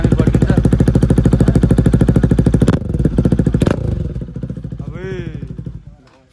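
A Bajaj Pulsar NS200 FI ABS fitted with an Akrapovic exhaust revs hard up close, firing in loud, rapid pulses before the revs drop and fade; a voice is heard briefly near the end.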